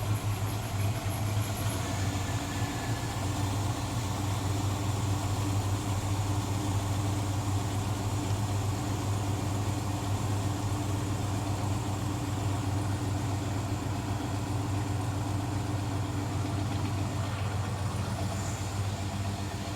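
A Chevrolet El Camino with electronic fuel injection idles in neutral, a steady, even low engine rumble holding constant throughout, close and unbroken, with no talking.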